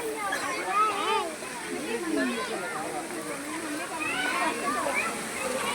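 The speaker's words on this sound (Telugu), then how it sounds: "Wow, water fall." Steady rushing water from a waterfall at a zoo park in Hyderabad, a broad even wash running the whole time with people talking over it.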